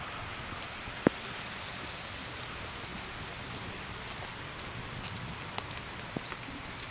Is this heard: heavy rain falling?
yes